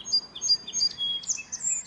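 A sparrow chirps in rapid, bright, high tweets, a quick irregular run of short calls, clear and close with nothing else around.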